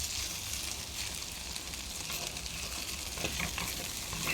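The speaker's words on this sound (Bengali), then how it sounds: "এজন্য আমি ঢেঁড়সটা সবসময় ঢাকা ছাড়াই ভাজি করি।" Okra frying uncovered in a pan, a steady close sizzle with light stirring scrapes running throughout, no voices.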